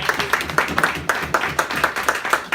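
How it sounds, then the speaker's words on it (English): A Toastmasters club meeting gives a new member a round of applause: a small group claps close by in a fairly even, repeated rhythm of distinct hand slaps that continues throughout. "A round of applause, everybody."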